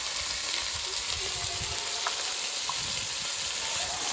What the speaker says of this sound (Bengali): ভালো করে নেড়ে চেড়ে মশলাটাকে কষিয়ে নেব।